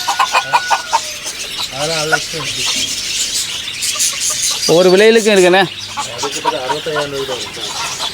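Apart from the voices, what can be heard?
chickens clucking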